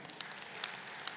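An audience claps briefly and faintly during a political party speech, a short, soft patter of applause in a hall.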